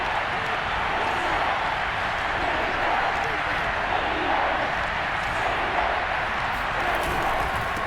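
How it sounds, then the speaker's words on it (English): Stadium crowd in a football video game roars as a broad, continuous wash of cheering and noise at a steady, fairly loud level, with commentary talking over it. "this crowd's going to get even louder"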